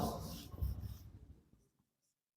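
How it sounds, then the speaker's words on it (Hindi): Pen or marker writing an example by hand on a board or page, with a burst of quick scratchy strokes that trail off into quiet, then one brief final tap, close up with no speech. "चलो एक एग्जाम्पल लिखता हूं"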